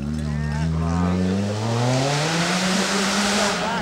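Mazda rally car on a snowy night stage passing close by, loud engine note sliding downward in pitch as it goes past, with people talking over it.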